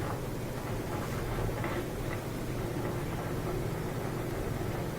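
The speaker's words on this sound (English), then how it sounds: "Here's the sound of that drain motor again." Washing machine drain motor with a broken impeller, a steady grinding, whirring mechanical noise that runs continuously at moderate level with no talking.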